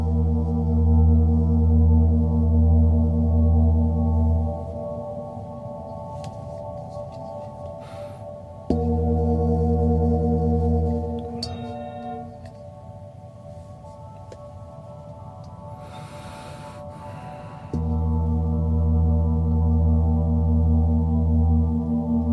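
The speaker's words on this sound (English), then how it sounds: "This is the lowest frequency I have in singing bowls" A low 82-hertz singing bowl struck three times, each strike blooming into a deep, sustained humming resonance with rich overtones that slowly fades before the next hit, close and full, with no talking.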